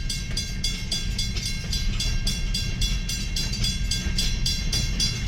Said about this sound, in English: There's the end of the train.